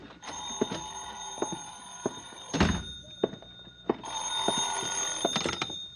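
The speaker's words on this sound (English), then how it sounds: "I think that's my phone." Telephone bell ringing in an old-time radio detective drama, sharp repeated metallic rings in two bursts with a thump between them, fairly close and clear with no talking.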